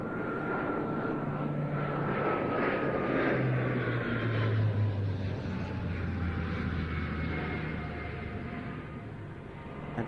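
A C-27 twin-turboprop transport flies past at the Royal International Air Tattoo airshow, its droning propeller engines giving a continuous roar with shifting tonal whines that swell then gradually recede.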